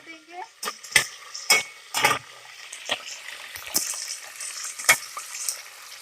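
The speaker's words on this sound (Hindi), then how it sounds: "अभी हम गरम घी में जो हमने मटन लिया है वो डाल देंगे" Mutton pieces dropped into hot ghee sizzle and crackle, with scattered sharp clinks and scrapes of a utensil against the pan over a continuous hissing fry.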